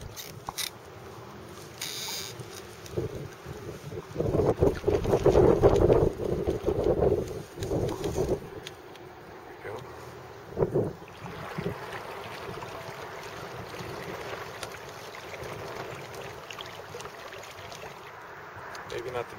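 Wind gusts buffet a kayak fitted with a homemade double-sized sail, roaring loudly against the microphone in a strong burst early on, then settling into steadier rushing noise with occasional water sounds.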